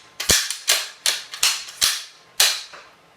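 Sharp metallic snaps from a Remington 700 rifle set in an MK Machining bullpup chassis as it dry-fires and its bolt is worked, six crisp clicks in a loose rhythm, close and clear with no talk.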